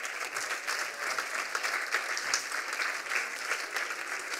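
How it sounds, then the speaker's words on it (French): Steady applause from an audience at a French e-health awards ceremony, dense continuous clapping filling the room at an even level with no talk over it. "on peut les applaudir"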